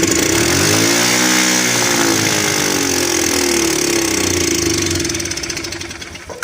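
A Yamaha Breeze ATV engine catching on choke, a close, loud rising rev that sputters and wavers in pitch before settling into a rough idle and fading slightly at the end.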